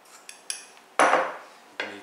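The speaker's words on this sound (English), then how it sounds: "And you give it a quick stir." A metal spoon scrapes and clinks against a bowl as bulgur is stirred with olive oil and kosher salt: a few light taps, then two louder scraping sweeps, close and alone.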